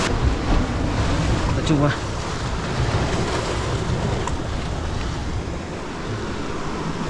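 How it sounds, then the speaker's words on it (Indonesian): Rough ocean waves breaking on a sandy beach shore, a continuous loud wash and roar mixed with wind buffeting the microphone, while a person speaks briefly nearby. "Kalau kelewat situ sebenarnya gampang, cuman ombaknya jahat."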